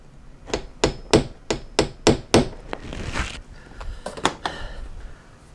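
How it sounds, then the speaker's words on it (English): Hammer striking a punch to mark hole locations on the metal body of a Sprinter van for a rear ladder install, seven sharp evenly spaced metallic taps close by, then a scraping pause and a few lighter knocks. "First I'll punch the holes, or punch the marks where Beth marked to make it easy to locate"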